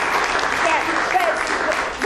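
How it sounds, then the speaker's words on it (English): Round of applause from an audience at a talk on mental attitudes, a steady dense patter of clapping filling the short stretch, with faint voices mixed underneath. "So, round of applause for me"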